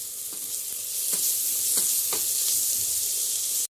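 Curry leaves, ginger and garlic sizzle and spit in hot oil in a pan, a steady loud frying hiss with a few sharp crackles and stirring clatters, no voices.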